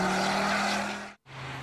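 A front-wheel-drive Ford Focus RS with 305 horsepower roars past at speed, its engine droning loudly before cutting out abruptly for a moment, then resuming more quietly.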